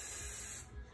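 A spray paint can sprays in one close, continuous hiss lasting about a second, tapering off slightly at the end.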